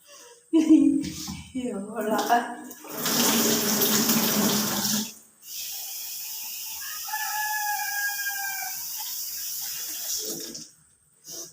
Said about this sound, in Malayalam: അങ്ങനെ അരി കഴുകി എടുത്തു